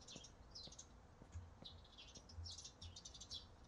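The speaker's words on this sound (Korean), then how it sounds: "오, 새소리 나고 뭔가 평화로워요." Birds chirping in the Korean horror video game The Coma: Cutting Class, faint scattered tweets and short calls repeating over a quiet background, with soft low thumps underneath.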